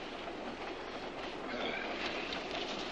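Moving passenger train rumbling along steadily, with a constant rolling roar and faint rhythmic wheel clatter that swells slightly in the second half, heard alone without voices.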